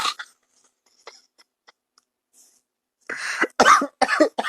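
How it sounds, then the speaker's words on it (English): A woman coughing a few times in quick succession, close and fairly loud after a quiet stretch with only faint small sounds. "I don't know why I keep coughing."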